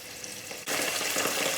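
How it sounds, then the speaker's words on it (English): Sizzling of red Thai curry paste in hot oil, a quieter crackle that suddenly swells into loud, steady frying partway through. "that's sizzling away nicely"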